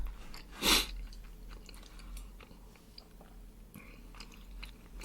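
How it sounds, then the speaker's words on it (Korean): Someone chews a big bite of salmon and kimchi stew, soft wet chewing up close with one louder crunchy bite near the start, then quieter mouth sounds at low volume. "큰 크게 한입 먹었냐?"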